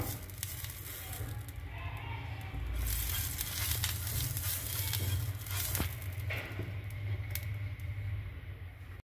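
Oil sizzling on a hot griddle heated for beetroot dosa, a steady soft crackle and hiss with a few faint clinks, no talk.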